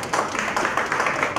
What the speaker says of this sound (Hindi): आप तालियां बजाकर उनका स्वागत कीजिए।